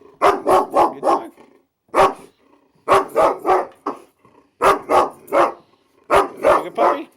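A reactive female dog barks hard and loud up close in short repeated bursts of three or four, with brief pauses between volleys and no talk.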